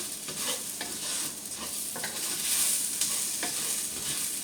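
Rice with herbs stirred and frying in a pan for Mexican rice: a steady soft sizzle runs under irregular scraping strokes of a spoon through the grains, close and moderately quiet, with no voices.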